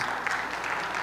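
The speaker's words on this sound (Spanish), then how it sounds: "Un aplauso a los niños." An audience applauding children at a Spanish-language event, a steady round of close clapping filling the whole moment.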